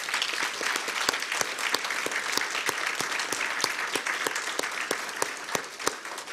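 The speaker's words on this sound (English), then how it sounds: "we owe one more big round, robust applause to our wonderful panelists and the veterans who shared their stories today" Steady applause from an audience at a community program on veteran-directed home services in Mechanicsville, Virginia, honoring panelists and veterans; many hands clap densely and continuously at moderate distance, without speech.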